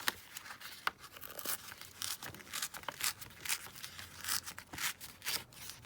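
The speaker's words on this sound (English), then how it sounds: "I'm just going to be super scruffy and just tear it down" Paper torn roughly by hand for a folio craft project, heard as a series of close, crisp ripping bursts with crinkling between them and no talking.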